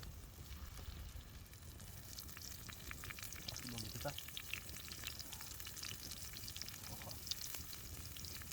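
Steaks sizzle and spit in butter in a pan over an outdoor fire by a river, a steady close crackling fry with occasional stirring clinks and no talk.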